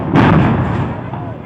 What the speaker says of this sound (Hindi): गोदाम में आग लग गई, जिससे गोदाम में रखे सिलेंडर एक एक कर विस्फोट करने लगे।